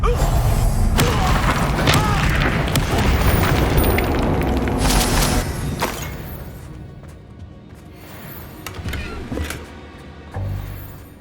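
A Confringo fire spell exploding in the Hogwarts Legacy video game, with a loud booming blast and crashing debris during combat, followed by quieter rumbling and a few smaller impacts.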